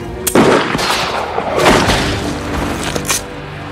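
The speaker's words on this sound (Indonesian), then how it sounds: "Court akhirnya berhasil menewaskan orang Indian tersebut" Several loud gunshots ring out in a film scene, sharp booming cracks spaced irregularly over a few seconds with echoing tails and a rumbling background.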